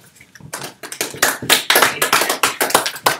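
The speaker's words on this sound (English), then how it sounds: "Let's give her a nice round of applause" A small audience claps in a quick, uneven burst that builds after a quiet start, sharp close hand claps overlapping into a brisk round of applause.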